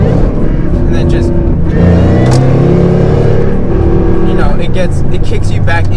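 A 2011 Mustang with a Roush supercharger downshifts and accelerates hard, the engine note climbing in pitch through the gears. Loud and close, with someone talking over it.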